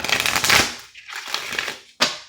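An oracle card deck is shuffled close up, a dense papery riffle that pauses briefly and ends with a sharp snap of cards.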